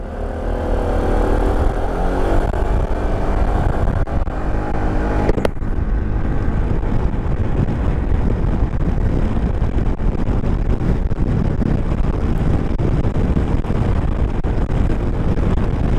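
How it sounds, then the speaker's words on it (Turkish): A 2019 Yamaha Xmax 250 scooter climbing uphill gives a steady engine drone mixed with heavy wind rush, loud and close and continuous throughout, with no talk. "Şu anda biraz yokuş yukarı x 250 arkadan geliyor"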